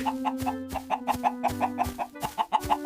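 Blocky video-game chicken clucking in quick repeated bursts, a dozen short clucks in steady rhythm over a constant droning tone, fairly close and clear.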